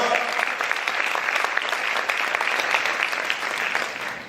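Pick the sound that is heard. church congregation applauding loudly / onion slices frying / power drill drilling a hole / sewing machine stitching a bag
church congregation applauding loudly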